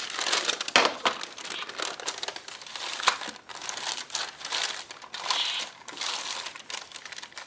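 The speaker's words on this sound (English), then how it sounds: "I'm going to just fold this in half so it fits inside my trimmer." Paper being folded in half for an art journal page, a steady run of close crinkling and crumpling with sharp creasing snaps, loud and continuous with no talk.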